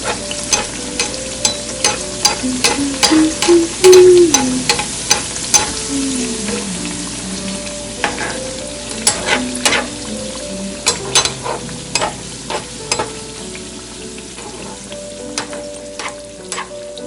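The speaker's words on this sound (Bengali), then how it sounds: "এই গরম তেল বারবার চামচ দিয়ে উপরের দিকে এভাবে দিতে হবে।" A Moghlai paratha fries in hot oil as a spoon repeatedly ladles oil over the top, giving a steady sizzle broken by sharp metallic scrapes and clinks at irregular intervals, loud and close.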